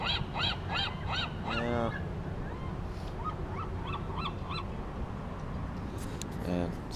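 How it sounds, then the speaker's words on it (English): A seagull calls with repeated harsh, honking squawks in short bursts from nearby outdoors, against steady background noise, and a person speaks briefly. "Got a seagull over there."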